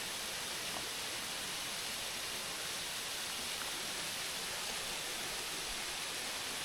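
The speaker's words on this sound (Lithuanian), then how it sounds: "Gražiai vandenukas bėga." Water spilling down a small waterfall beside a Madeira levada, a constant broad hiss and rush that never changes, close by with no voices.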